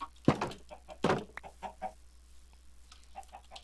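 Blocky game chickens cluck in short, repeated bursts, a couple of louder squawks standing out over a quiet background with no talking.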